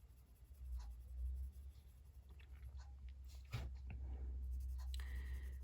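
A dark colored pencil scratches across paper in a coloring book, a soft continuous scribbling rasp with a few brief louder strokes, close and quiet, with no one talking.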